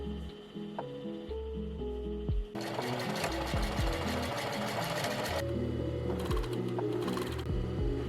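A sewing machine top-stitches a printed piece onto a knit t-shirt, running a steady fast mechanical whir with rhythmic clicking and faint ticks, close and continuous for the whole stretch.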